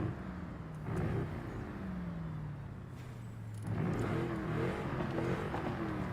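Car engine in the Forza Horizon 5 racing game, revving in long rising and falling sweeps that swell louder midway and keep droning steadily, with no talk over it.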